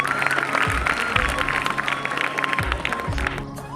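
Crowd of students and guests clapping together at a Republic Day prize ceremony in a school, steady dense applause throughout with occasional low thumps, fairly loud and close.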